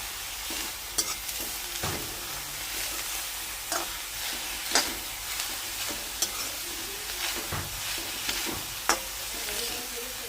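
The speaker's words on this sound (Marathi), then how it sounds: "ही कारली अशी भाजून घेणार आहे" Bitter gourd pieces roast in a kadai with a steady hiss and crackle, broken by repeated sharp scrapes and clacks of a spatula stirring at irregular intervals, close and fairly loud, with no talking.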